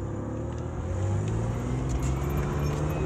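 Honda Passport truck driving, a steady loud engine drone with road rumble and a slight rise in pitch partway through, alone without talk.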